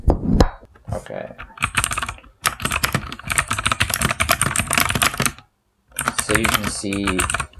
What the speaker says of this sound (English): now it's time to do some typing on this one